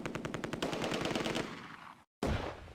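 Rapid machine gun bursts from MG42, Vickers and Bren guns in a Close Combat battle at Oosterbeek during Operation Market Garden, loud and continuous with a brief silent gap before firing resumes.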